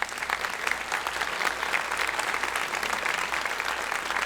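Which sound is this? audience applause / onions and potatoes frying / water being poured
audience applause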